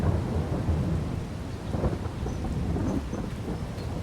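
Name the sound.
thunder and rain in video game Farming Simulator 22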